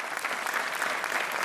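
Studio audience applause on the RTP 1 game show Joker, a steady, fairly loud wash of many hands clapping with no talking over it.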